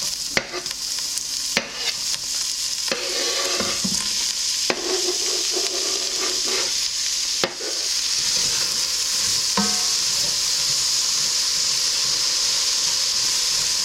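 Two onions fry in a pot for a pot roast with a loud, continuous sizzle, broken by several sharp scrapes and clatters as a spoon stirs them; no one speaks.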